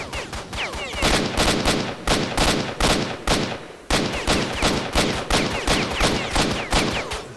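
Rapid gunfire in the Stalker: Shadow of Chernobyl video game, loud bursts of close shots in quick, regular volleys with brief gaps, continuing throughout without talk.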